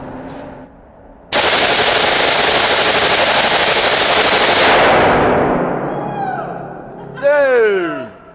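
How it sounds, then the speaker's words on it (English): Four M4 rifles fired together at a Las Vegas range, producing one dense, very loud sustained roar of automatic fire lasting several seconds, which then fades into echoes while voices cheer and exclaim afterward. "we're essentially shooting four M4s at once. And that's gonna make it a really, really loud gun"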